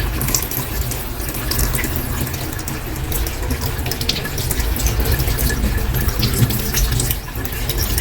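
Water pours steadily from a tap for a calamansi drink, a loud, continuous splashing rush that runs close and unbroken throughout.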